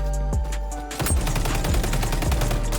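Rapid automatic gunfire in the shooter game XDefiant, a loud, sustained rattling burst after a short lead-in, close and without talk.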